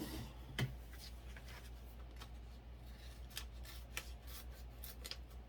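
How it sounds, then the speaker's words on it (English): Scissors snip through folded printed sticker material during a glitter craft project, giving a handful of faint, close, crisp cuts over a quiet hum. "take a pair of scissors and cut that off"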